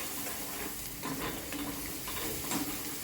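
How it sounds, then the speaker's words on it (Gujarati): Finely chopped onions sautéing in a pan for Kathiyawadi-style roasted eggplant: a dense, continuous close-up sizzle with soft stirring scrapes throughout. "ઝીણા સમારેલા કાંદા, ડુંગળી, એને બરાબર પહેલાં સાંતળી લેવાનું."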